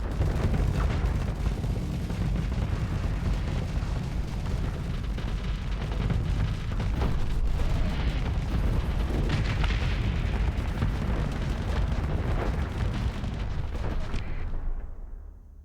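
Sustained, loud cannon fire and booming weapon blasts from a space battle in modded Starsector 0.98a, Imperium of Man faction with a Nova cannon, rumbling densely and continuously for about fifteen seconds before cutting off abruptly.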